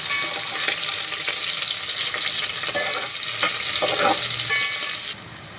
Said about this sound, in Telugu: షాజీరా, లవంగాలు, ఇలాచి వేసుకొని ఇలా ఫ్రై చేసుకొని పక్కన పెట్టుకోవాలి.